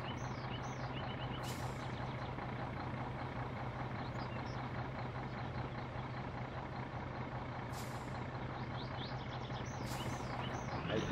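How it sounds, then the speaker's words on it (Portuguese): A truck in the driving game My Summer Car idles with a low steady engine drone, while faint high chirps and hisses break in now and then; no one speaks. "Aí o caminhão tá escorregando aqui,"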